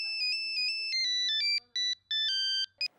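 A phone ringtone plays a bright electronic melody of rapid repeated tones, ringing loudly and close, then cuts off in short bursts near the end.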